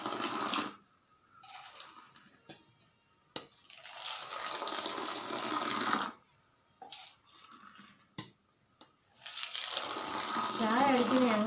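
Hot tea poured back and forth between two vessels to cool it, in splashy streaming bursts of several seconds each, separated by short quiet pauses.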